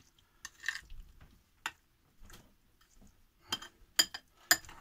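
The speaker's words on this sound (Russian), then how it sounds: "И сейчас вот перемешиваем." A spoon stirs a thick cheese topping mixture for baked pork chops in a bowl, giving a few scattered scraping clicks and taps, close and fairly quiet with pauses between strokes.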